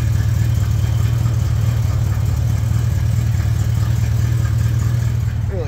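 A rust-free crew cab pickup with a 360 engine and original paint idles steadily up close, a constant low engine drone holding through the whole stretch with no talking over it.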